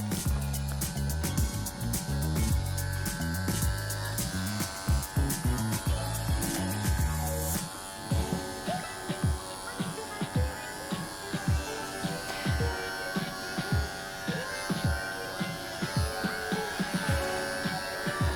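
A Wahl electric clipper trims a dog's leg hair in close, steady buzzing, with a dense motor drone at first, then breaking into repeated short passes and stops over a persistent hum.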